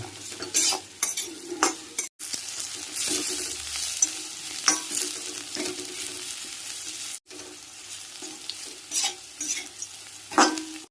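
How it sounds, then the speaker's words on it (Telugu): Garlic cloves frying in hot oil for a garlic and chana dal spice powder, with a steady close crackling sizzle broken by repeated scraping stirs of a utensil against the pan, and two brief dips in sound. "వేడెక్కిన నూనెలో వెల్లుల్లిపాయలు వేస్తున్నానండి"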